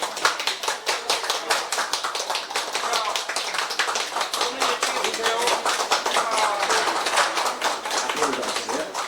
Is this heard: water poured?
no